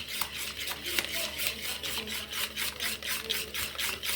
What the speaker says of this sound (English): So this is how you whisk.